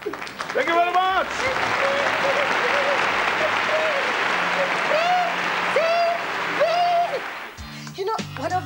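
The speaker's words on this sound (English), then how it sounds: "And the audience is going to welcome. Applause." Studio audience at a television variety show applauds steadily and loudly throughout, with whoops and vocal cheers rising over the clapping and a voice near the end.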